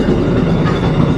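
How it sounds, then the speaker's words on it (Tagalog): A cargo train passes close by, a loud, dense rumble of rolling wagons holding steady throughout the short stretch, with no voices. "cargo tren"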